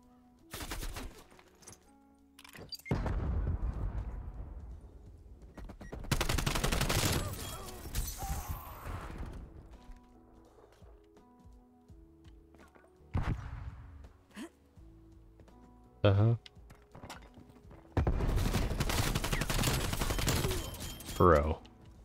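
AK-74u submachine gun fire in Call of Duty Cold War Search & Destroy, with several sharp bursts and long sustained volleys scattered across the clip amid game effects and a player's faint vocal sounds.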